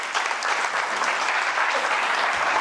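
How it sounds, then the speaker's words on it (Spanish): Loud, continuous applause from a conference audience in Barcelona for a speaker, filling the room without pause. "démosle un fuerte aplauso porque..."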